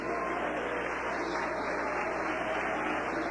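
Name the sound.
congregation applause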